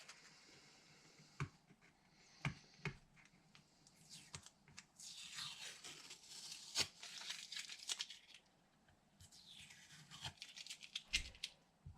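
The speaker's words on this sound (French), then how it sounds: "On va enlever le scotch." Adhesive tape is peeled off in several rasping, tearing pulls, mixed with scattered clicks and crinkles, close and quiet.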